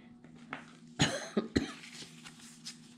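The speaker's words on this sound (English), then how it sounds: "I'm still coughing a little bit" A close person coughs a few times in a short burst, sharp hacking coughs clustered together, with a faint steady hum behind.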